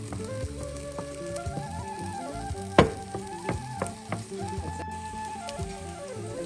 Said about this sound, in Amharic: አሁን እንደዚህ ትንሽ ሽንኩርት 1-2 ደቂቃ ካበሰልን በኋላ ትንሽዬ ዘይት ነው የምናደርገው